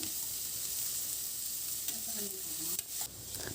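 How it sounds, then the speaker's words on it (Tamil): Chopped onion sautés in oil in a pan with a soft, steady sizzle and a few light stirring scrapes, quiet and close. "வெங்காயம் நல்லா வதங்கட்டும்."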